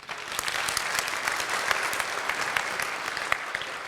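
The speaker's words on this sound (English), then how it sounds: "Round of applause." A round of applause at a children's programme, with a crowd clapping steadily and moderately loud for the whole stretch, individual claps standing out sharply against the dense wash.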